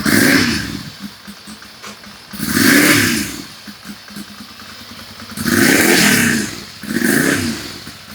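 A Ducati Monster 696 motorcycle engine starts and revs, loud and close, with several throttle blips rising and falling in bursts over a rough idle.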